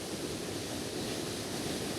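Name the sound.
waterfall flowing from the mountains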